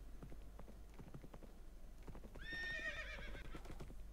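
Minecraft horse whinnying partway through over a steady run of clip-clopping hooves, a rising then falling neigh standing out near and loud against the footfalls.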